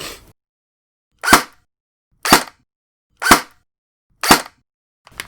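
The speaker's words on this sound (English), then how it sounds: "the time between when I pull the trigger and when the gun fires is quite shorter actually" An airsoft gun fires four sharp, separate shots at roughly one-second intervals, each a short crisp crack with near silence between, and a fifth shot just beginning at the end.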